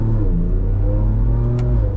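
A 2025 Ford Ranger Raptor engine revs close by with a crisp, barky exhaust note, rising in pitch over a deep rumbling idle.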